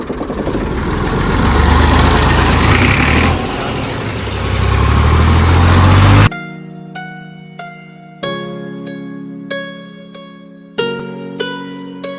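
A tractor engine idles and chugs loudly nearby, then gives way to a series of sharp, ringing tones that decay one after another.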